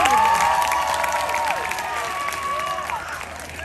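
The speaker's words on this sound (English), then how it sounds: "I think that we should give Marilla and Yvonne a big round of applause" Audience applause at a school open mic night, a broad steady clatter of clapping with some cheering and whistles from the crowd, fairly loud and continuous throughout.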